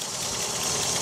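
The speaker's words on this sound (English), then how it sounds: "Listen to that engine." A 1959 Volvo Amazon Sport's engine idles in a steady, dense mechanical whir that stays even and close throughout the short stretch.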